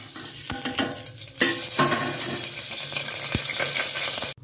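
Whole spices such as cinnamon bark, bay leaf, cloves, poppy seeds and fennel frying in a little oil in a pressure cooker, a continuous close sizzle with occasional stirring clinks and a sharp knock near the end.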